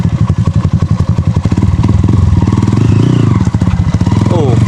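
Dirt motorcycle ridden over rough ground while a rider learns not to fear tipping over, its engine buzzing loudly with repeated thumps and clatter throughout, voices calling out over it.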